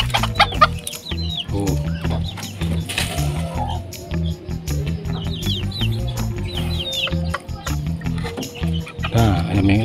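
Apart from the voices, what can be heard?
bantam chickens clucking and pecking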